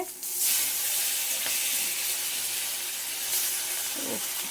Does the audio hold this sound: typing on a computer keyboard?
no